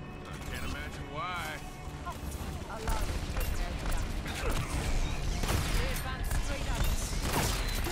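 Gunfire and mechanical clatter from the Overwatch game crackle in scattered bursts, with creaking and clicking effects throughout, mixed under continuous talking.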